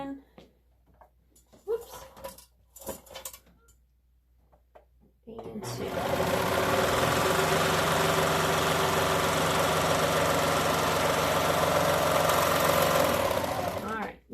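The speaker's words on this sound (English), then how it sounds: "So I'll put this on the serger." A serger sewing machine runs steadily for about nine seconds, serging the long edge of fabric pieces for an Olson face mask, a loud continuous whirring hum after a few quiet handling sounds at the start.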